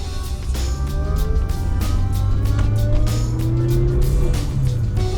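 A JDM car drives up onto the highway, its engine droning steadily with rising pitch as it accelerates, and road and wind noise are heard close throughout.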